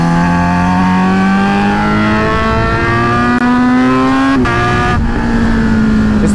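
A Kawasaki Z900 four-cylinder motorcycle engine pulls hard under acceleration, its loud, smooth whine rising steadily in pitch, broken by a couple of quick gear shifts that briefly dip and then climb again.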